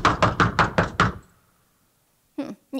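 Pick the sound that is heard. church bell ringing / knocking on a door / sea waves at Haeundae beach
knocking on a door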